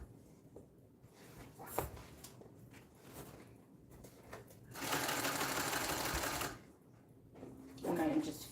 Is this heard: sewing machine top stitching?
yes